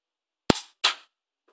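NERF Jolt toy blaster firing a dart: one sharp close snap followed a beat later by a second softer burst, quick and isolated in quiet surroundings.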